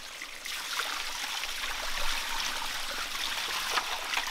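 Water trickles and streams steadily at close range, a soft continuous flow with small gurgles, poured to thaw a frozen woolly mammoth pelvic bone embedded in ice in Alaska.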